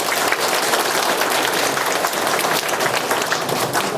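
Audience applause at a residents' briefing session in Songpa-gu, Seoul, dense and loud, with many hands clapping steadily throughout and no voices over it.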